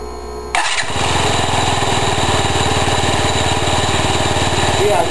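A Yamaha C3 scooter engine buzzes loudly and steadily up close after an abrupt start, holding a rough, even drone with no clear drop as the rear brake is applied.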